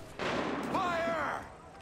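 A single booming musket volley crashes out in Assassin's Creed 3, a broad burst that rumbles and fades over about a second, with a shouted voice briefly rising over it.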